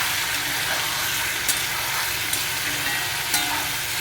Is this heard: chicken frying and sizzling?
yes